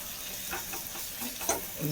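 Crushed chili fries in a pan for a mixed fish and vegetable stir-fry, a soft, fairly faint sizzle with a few brief stirring scrapes and no talking.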